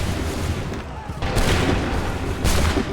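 Thunderous musket volleys in Assassin's Creed 3 battle scenes, loud booming bursts with rolling echoes over constant battlefield noise and shouted voices.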